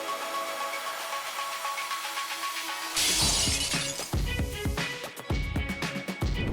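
Glass suddenly bursting and shattering during a robbery in which an excavator rips out an ATM, a loud crash followed by scattered tinkling and clattering debris after a steady mechanical hum.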